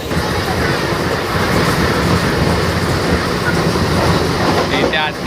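Mumbai local train running out of Panvel, a loud continuous rattling roar of carriages with rhythmic clickety-clack over the rails and a brief squeal near the end, with no break in the noise.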